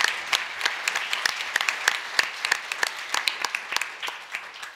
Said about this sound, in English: I'm gonna say one more round of applause for all of our finalists.